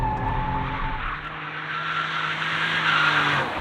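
A rally car on standard Michelin tyres slides out of a corner under throttle, a sustained engine note with tyre squeal and skidding scrub, loud and close, easing briefly before building again, with no talk.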